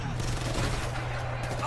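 Gunfire from the video game Ghost Recon Future Soldier, a dense continuous burst of shots running through the whole moment at steady loudness, with a low droning hum beneath.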